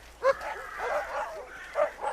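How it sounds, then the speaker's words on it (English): Dogs barking in the distance in a dramatized audiobook scene set in a field at night, with a few separate woofs and yips, moderately faint and with no talk over them. "There were shouts and dogs barking."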